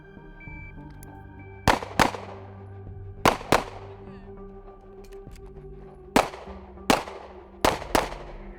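Pistol shots from a Glock or 2011 handgun on a shooting drill: eight sharp, loud reports in quick pairs spaced across the stretch, over a quiet outdoor background.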